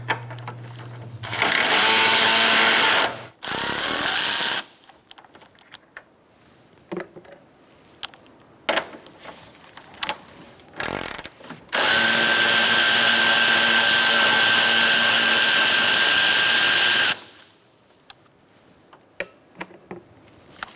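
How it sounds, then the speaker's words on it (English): A socket wrench spins out bolts on the AC condenser of a 2014-2019 Kia Soul 1.6L L4, using a 10mm socket: loud, sustained whirring bursts, a short one, another brief, then a long run, separated by quieter clicks and handling noises. "we're going to take out these 2 bolts."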